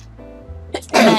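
A single sharp sneeze bursts out after a brief quiet lead-in breath, loud and close.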